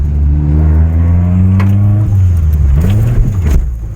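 Nissan 240SX engine running steadily up close, a loud low idle-to-cruise drone with a brief rev change partway through, rough and continuous with no talk.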